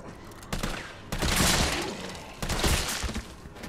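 Assault rifle gunfire in Resident Evil 3, loud full-auto bursts in two long volleys separated by short pauses, close and harsh with a crackling, echoing tail.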